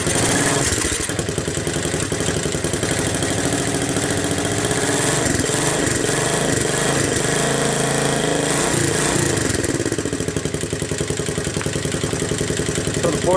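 A small engine fired by a portable CDI box starts and runs with choke on, a steady loud mechanical drone with clattering idle throughout, close up and without talk.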